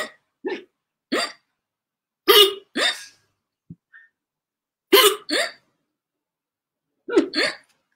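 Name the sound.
hiccups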